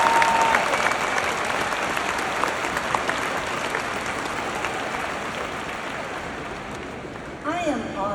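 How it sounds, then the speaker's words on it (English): Sustained, dense applause from the crowd at a University of South Florida graduation ceremony, loud at first and gradually easing, with a voice starting to speak near the end. "let's give a big rousing round of applause for everyone that's here today"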